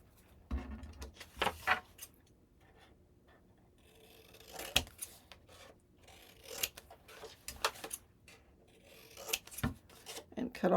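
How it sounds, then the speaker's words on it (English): Scissors snip through paper scraps beside chipboard while assembling a Valentine's Day tag book, a string of quiet, irregular crisp cuts and rasping rubs close by, with no talking. "and then grab some scissors."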